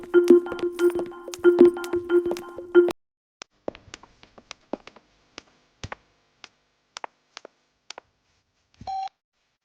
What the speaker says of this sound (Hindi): फोन कर रहा हूँ, फोन पे नहीं उठा रहे।